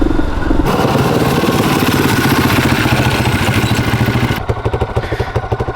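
A restored 1982 Honda XL250R single-cylinder motorcycle engine runs close by with a loud, rapid, even chuffing beat and mechanical clatter, then drops back to a slower, lumpier idle near the end.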